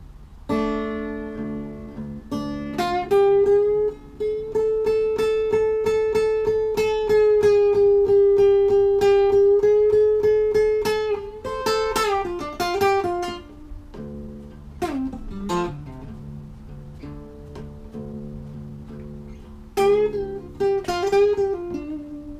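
Electric blues guitar solo riff, with bent, sustained notes and quick bursts of phrasing, loud and close, playing alone with pauses between phrases.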